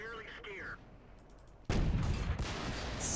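A heavy shot from an Object 704 tank destroyer strikes a tank in World of Tanks, landing as a sudden loud boom followed by sustained rumbling after a brief moment of speech.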